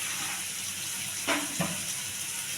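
Tomatoes sautéing in a pan for masala kulambu with rock salt, a soft continuous hiss broken by two brief utensil scrapes near the middle, close but fairly quiet.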